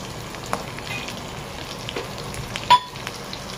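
Masala for chicken sukka roasts in a pan with a steady soft sizzle and scattered crackles, plus a brief louder clink near the end.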